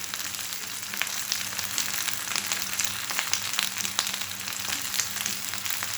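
Slices of eggplant and round-cut tomato frying in a pan, giving a steady, close, even sizzle with fine crackles throughout and no talking.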